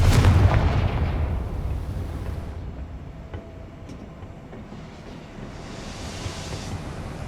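A Confringo fire spell explosion in Hogwarts Legacy, opening with a loud, deep boom that rolls into a long, fading rumble and then a low hiss, with no talking.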